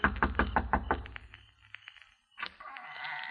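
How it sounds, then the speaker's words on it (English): Repeated knocking on a house door, a radio drama sound effect: a quick run of sharp, close raps, then softer, sparser knocks trailing off, a brief silence, and a rising hum of background sound. "I kept knocking."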